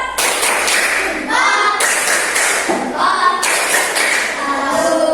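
A classroom group of students performs the Indonesian 'tepuk jempol' clap chant, a steady run of fairly loud claps and taps layered with chanting voices for several seconds.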